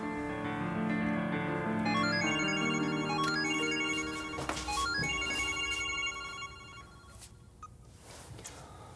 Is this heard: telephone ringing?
yes